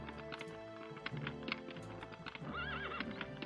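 A horse in the video game Daggerfall Unity clip-clops along, its hoofbeats rhythmic and near, then lets out a loud wavering neigh toward the end.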